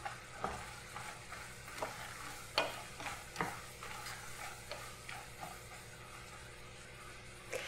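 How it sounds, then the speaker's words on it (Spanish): Walnuts being stirred as they caramelize in a pan for candied nuts, giving soft, steady frying noise broken by scattered scraping and clicking strokes of the spoon, fairly faint and with no talking. "Y si seguimos revolviendo, en ese punto las nueces se van a empezar a hacer garpiñadas"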